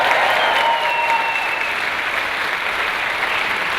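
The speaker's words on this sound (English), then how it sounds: "That's when you guys applaud." An audience bursts into loud, sustained applause at a panel event, a dense wash of clapping that carries on throughout with no one speaking.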